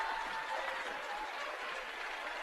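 A basketball crowd at a high school regional championship game at the Pinnacle at Brush applauds steadily, a continuous wash of clapping from a large arena audience heard alone.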